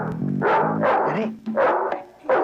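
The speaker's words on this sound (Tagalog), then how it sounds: "may aso" A dog barks in short repeated bursts, several loud yelping barks in quick succession up close, with harmonic whining tones at the start.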